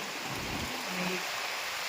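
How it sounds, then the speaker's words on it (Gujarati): Steady heavy rain during a storm with strong wind hisses loudly and continuously, a dense wash of noise with a low rumble underneath. "વરસાદ ફૂલ જોરથી પડેલો છે"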